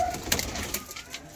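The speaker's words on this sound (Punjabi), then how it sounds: "ਟੈਡੀ ਕਬੂਤਰ ਦਾ ਸ਼ੌਕ ਕਰੋ ਸਰਕਾਰ" Teddy pigeons kept in a loft coo softly amid a busy backdrop of bird calls and rustling, close by and continuous, with no talk over it.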